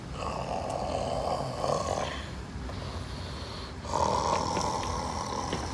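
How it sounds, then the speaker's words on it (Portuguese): A person snores heavily and close by, a loud, rasping breath that carries steadily through the whole stretch and swells again near the end, with no voices heard. "Eu conheço esse ronco"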